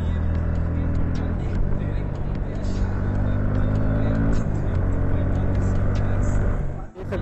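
Jupiter scooter and Bajaj NS 160 motorbike racing side by side on the road, a steady loud engine drone with wind rush throughout, close and continuous, dipping briefly near the end.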